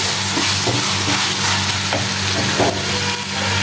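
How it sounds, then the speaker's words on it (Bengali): Chopped tomatoes sizzle and fry in a pan while a spoon stirs and scrapes through them, a steady close hiss with soft rhythmic scraping, no voices. "তো আমি সব টমেটো একেবারে গলায় ফেলছি।"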